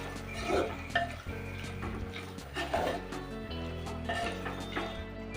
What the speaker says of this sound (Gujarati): અને એકવાર બધી વસ્તુને સારી રીતે મિક્સ કરી લેશું